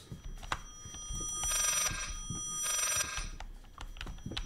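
An old-fashioned telephone bell rings in the Layers of Fear horror game, two long trilling rings separated by a pause, heard over dark ambient noise and scattered clicks.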